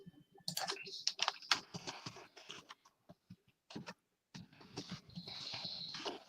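Rapid clicking of keys on a keyboard in irregular bursts, with short pauses, fairly quiet and close.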